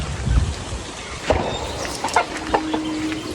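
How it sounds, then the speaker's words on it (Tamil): Chicks cluck in short, scattered calls over a quiet background, with a few soft peeps mixed in nearby. "இது ஒரு கலரில் இருக்கின்ற கோழி குஞ்சு"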